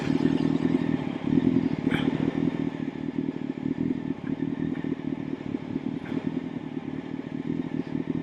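A motorcycle rolls slowly downhill on clutch and brake, its engine holding a low, even hum near the rider, with faint clatter and a few light scrapes and no speech.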